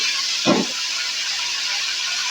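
Chopped cabbage hits a hot pan for Bengali badha kopir ghonto, giving one brief loud burst at the start that settles into a steady steamy hiss for the rest.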